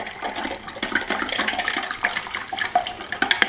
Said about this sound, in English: we're going to pour that into our 250 ml of boiling hot water and give it a good stir